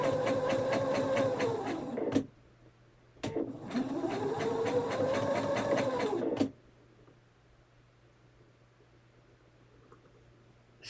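Sewing machine stitching jelly roll fabric strips for nine-patch quilt blocks, two steady whirring bursts of about two and three seconds with a brief pause between, then it stops, close and alone.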